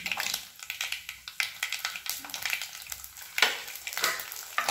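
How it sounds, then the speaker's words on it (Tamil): Fenugreek and garlic frying in hot oil for a village-style dry fish curry, a soft sizzle with a quick run of stirring scrapes and light clatter against the pan, no talking. "வெந்தயம், இது மூணும் பொரிஞ்சு வரட்டும். இப்போ பாருங்கள் நல்லா பொரிஞ்சு வருது."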